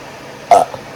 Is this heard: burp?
yes